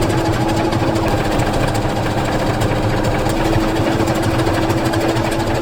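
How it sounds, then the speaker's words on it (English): A serger overlocks the trimmed hem of bedsheet fabric, a steady, loud motorized whir with a constant hum running unbroken throughout, close by and with no talking. "I'm gonna trim up this hem and then I'll overlock it."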